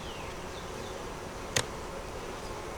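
Honey bees hum steadily around a double deep hive with a honey super, the field-bee buzz close and continuous, with one brief sharp click partway through.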